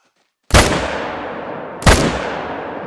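Hunting rifle fired twice in TheHunter: Call of the Wild, two sharp, loud cracks about 1.3 seconds apart, each followed by a long rolling echo fading across open terrain.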